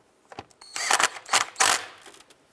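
A ratchet tightens a 10mm bolt on the EGR valve of a 2005-2010 Jeep Grand Cherokee, giving a close run of quick clicking bursts in several short spurts.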